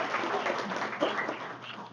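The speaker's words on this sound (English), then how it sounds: "I'd like to have us all give you a quick round of applause" Audience applause at a Law Day lunch, a steady wash of many hands clapping at moderate volume for about two seconds.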